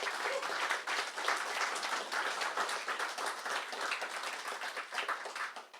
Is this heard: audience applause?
yes